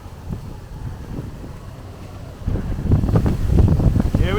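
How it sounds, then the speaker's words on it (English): Strong gusty wind buffets the microphone during a Brooklyn thunderstorm on a city street, a steady roar that surges noticeably louder and rougher after the first couple of seconds. "Just look at this wind."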